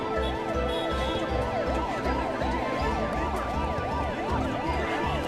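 An ambulance siren stuck in traffic wails continuously in a rising and falling pattern, loud and close, over a low rumbling engine.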